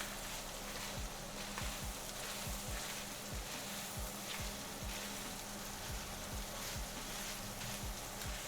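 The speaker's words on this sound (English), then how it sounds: "Give this one more stir." A wooden spoon scrapes in repeated soft strokes through gnocchi stuffing frying in a pan, over a steady sizzle.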